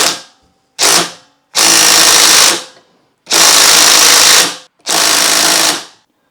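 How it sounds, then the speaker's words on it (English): An impact driver spins a flywheel puller threaded into the flywheel of a Honda CR125 motorcycle engine, firing in five loud, close bursts: two short rattling hits, then three long sustained hammering runs separated by brief silences. "we have a flywheel puller which we screw into said flywheel and use the impact driver"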